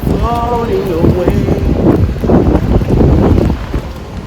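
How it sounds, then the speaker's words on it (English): Strong wind gusting at a beach, a steady roar of buffeting microphone noise with people talking over it. "For real, the wind is winding."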